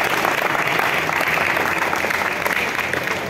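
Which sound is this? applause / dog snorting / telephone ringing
applause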